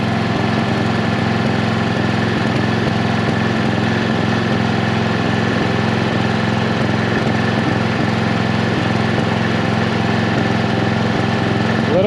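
A Toro riding lawn mower engine runs steadily while being driven, a loud, close, continuous drone with constant vibration and no talk.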